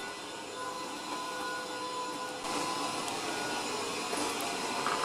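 Cecotec Conga 7090AI robot vacuum cleaner running indoors, a continuous close whirring motor and brush hiss that shifts in pitch partway through, with no voices.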